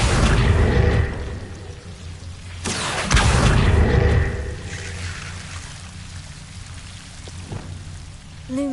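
A fire spell cast in the Hogwarts Legacy game flares in a short whooshing burst, then falls away to a crackling rush over a low rumble. A second softer burst comes later.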